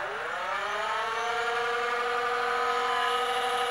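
Replacement motors in a Nerf Rayven blaster spinning up, a whining electric rev climbing steeply in pitch then holding a steady high buzz, close and alone with no talk.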